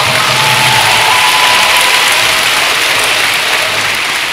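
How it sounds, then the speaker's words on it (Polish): Dense, steady applause from a debate audience at the Woodstock festival, loud and continuous with no voices breaking through. "Oczywiście po pacyfikacji nastąpiły obowiązkowe oklaski."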